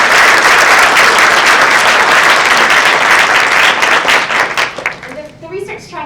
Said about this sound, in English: let's give our organizers a big round of applause